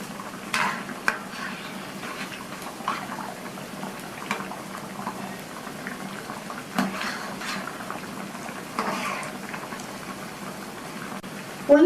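Rava vada fry in hot oil and are turned over in a pan, giving a steady, soft sizzle with occasional clinks and scrapes. There is a louder clatter at the very end.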